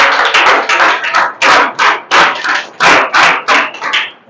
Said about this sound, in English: Clap for both.